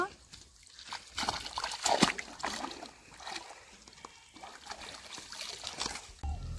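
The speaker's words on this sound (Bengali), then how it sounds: "তো এখন আমি জালটা পরিষ্কার করে ধুয়ে নিব।" Fishing net being rinsed clean in water after catching crabs, with sloshing and trickling splashes that rise and fall close by, plus a brief bump near the end.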